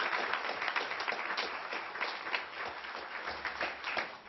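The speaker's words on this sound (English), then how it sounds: "let's give these kids a round of applause." An audience at a tribal council meeting claps for a group of kids, a moderate, steady round of applause that tapers slightly toward the end.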